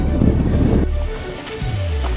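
Strong wind buffets the microphone near the summit of a small mountain outside Las Vegas, roaring loudly for about a second before easing into a softer rush of air.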